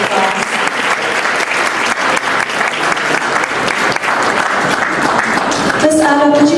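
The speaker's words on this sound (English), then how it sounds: "Everybody give them a round of applause." Sustained, dense applause from a large audience at an annual professional network gala, loud and steady throughout, with a few voices and a brief musical tone emerging near the end.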